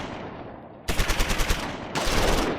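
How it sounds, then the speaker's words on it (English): Gunfire from the World War II strategy game Close Combat 4, set in the Battle of the Bulge, comes as a loud rapid burst of shots, a short pause, then a second sustained burst. "His second shot hits and kills 2 of the crew. His third shot misses."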